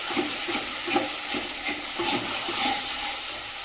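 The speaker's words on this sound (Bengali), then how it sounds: "দিয়ে মশলাটা ভালো করে কষিয়ে নেব" Spice paste of coriander powder and Kashmiri chili powder with a splash of water is stir-fried in a pan, giving a steady low sizzle with soft repeated scraping strokes of a spatula, quiet and without talk.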